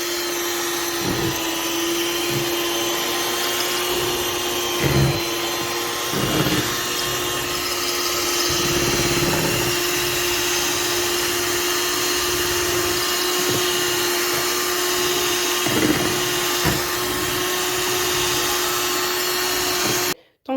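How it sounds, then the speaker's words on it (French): An electric mixer whirs steadily while blending a second cream for a pecan meringue cloud dessert, a loud continuous motor drone with a few brief bumps and surges, running alone until it cuts off at the very end. "je suis en train de mixer la deuxième crème"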